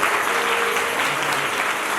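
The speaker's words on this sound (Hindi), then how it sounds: "ये तालियां कम है।" A congregation at a church sermon service applauds, dense continuous clapping that holds steady and loud from start to finish with no other sound standing out.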